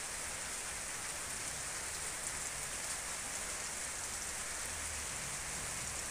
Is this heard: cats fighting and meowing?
no